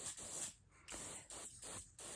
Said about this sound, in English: So you spray it on your brush.